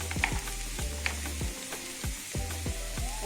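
Ginger and garlic frying in a pan for chicken curry make a steady close hiss, with regular scraping stirs roughly every quarter second running beneath it.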